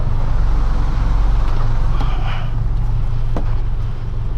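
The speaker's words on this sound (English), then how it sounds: "I push forward with the starboard engine, because the line is not on that side." A boat's starboard engine pushing forward while manoeuvring in central Stockholm, a steady low heavy drone with constant rumble throughout.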